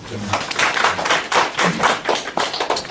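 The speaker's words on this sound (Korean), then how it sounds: "박수." Church congregation clapping during a Sunday worship service, a dense patter of many hands that swells and dips in waves, close and fairly loud, with scattered taps and thuds and some voices murmuring underneath.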